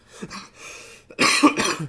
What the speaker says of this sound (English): I actually do have a cough.